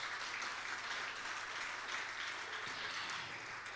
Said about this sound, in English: round of applause for Bradley Krause on guitar